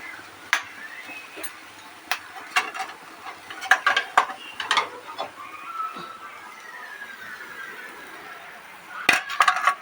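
A metal pan of cooked coconut and jaggery mix for coconut laddus being lifted off the stove: scattered sharp clinks and scrapes of utensils against the pan, with a soft background hiss and a louder clatter near the end.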